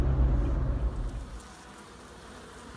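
Honeybees swarm and buzz around a nest inside a brick wall, a steady insect drone close by, with a low engine-like rumble at first that fades, leaving a fainter hum.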